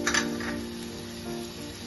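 Green chillies and chicken frying in a pan, a steady close sizzle with a brief stirring scrape near the start, no voices.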